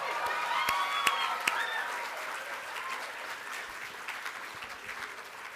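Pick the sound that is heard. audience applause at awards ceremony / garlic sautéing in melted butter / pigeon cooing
audience applause at awards ceremony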